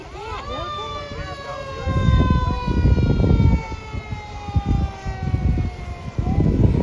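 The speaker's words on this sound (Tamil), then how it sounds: "சைரன் வச்ச மூணு ஃபயர் டிபார்ட்மெண்ட் வண்டிங்க தான் ஃபஸ்ட்டு வர ஆரம்பித்தாங்க" Three fire department trucks lead a Labor Day parade in Chicago, their sirens wailing in long rising and falling sweeps throughout, loud over crowd noise and engine rumble.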